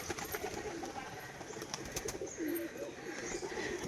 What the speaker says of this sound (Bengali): এই হচ্ছে কাগজি পায়রাটা